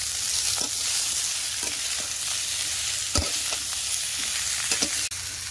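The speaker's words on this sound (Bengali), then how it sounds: "পেঁয়াজ রসুনটা ভাজা ভাজা হয়ে গেছে, এবার দিয়ে দেবো ভাবিয়ে রাখা আলু ফুলকপি।" Onion and garlic frying in oil with potatoes and cauliflower hiss in a continuous close sizzle, punctuated by occasional spatula scrapes and a few sharper knocks against the pan.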